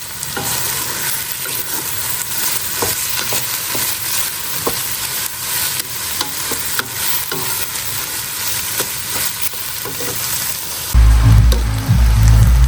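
Cooked rice, vegetables and egg stir-fry in a hot pan, a steady loud sizzle broken by repeated scraping stirs; near the end a deeper, heavier rumble takes over.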